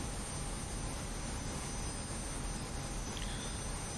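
Steady broadband jet roar of an F-86F Sabre fighter coming in to land in a Korean War-era flight combat video game, a constant engine drone with no talk over it.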